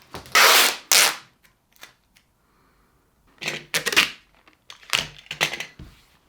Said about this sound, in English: the first thing I need to do is to prep my melamine board with a layer of this packing tape